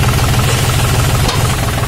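A 2021 John Deere 5205 tractor engine revved to about 3000 RPM, a loud, close, steady diesel roar with a deep rhythmic throb throughout.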